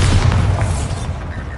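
A Bombarda explosion spell from the video game Hogwarts Legacy, one deep booming blast at the start that rumbles and fades over about a second and a half.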